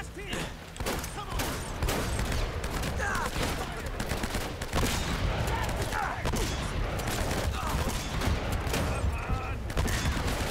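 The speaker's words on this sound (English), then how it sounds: "Shooting people on a boat." Dense, continuous video game gunfire from the Uncharted: Drake's Fortune shootout on a boat, with rapid overlapping shots and mechanical clatter filling the whole stretch under faint voices.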